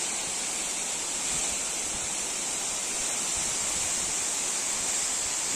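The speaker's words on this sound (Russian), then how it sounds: "слышно падающей воды." A large waterfall high in the upper reaches of the Uch-Kosh gorge roars with a dense, steady rush of falling water, loud and unbroken throughout with no voices.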